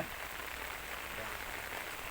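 Light drizzle falls steadily in a rural home garden, a soft, even hiss of rain that stays faint and constant throughout with no breaks.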